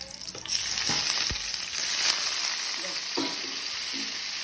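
Octopus dropped into hot cooking oil sizzles loudly and continuously close by, with a few stirring knocks and spatters over the steady frying hiss.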